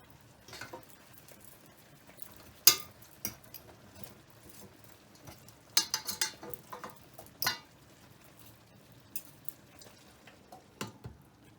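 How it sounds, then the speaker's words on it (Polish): Chopped vegetables for a creamy chicken curry tumble into a pan, giving scattered clinks, taps and soft clattery thumps in irregular bursts, close by, with no talking. "I teraz tu już wrzucam te warzywa."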